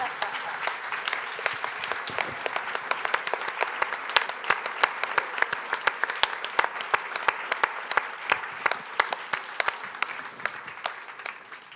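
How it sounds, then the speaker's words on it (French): An audience at a literary gathering linked to the Étonnants Voyageurs festival in Saint-Malo applauds to welcome the writer Lyonel Trouillot, a long, dense ovation of many hands with sharp individual claps standing out throughout. "faites un tonnerre d'applaudissements à Lionel Trouillot"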